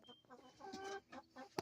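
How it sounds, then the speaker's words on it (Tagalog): Fluffy-feathered chickens clucking softly in a backyard flock, a few short clucks and low calls at a distance, quiet and mixed with faint background noise. "Ito yung mga mabalbon na manok."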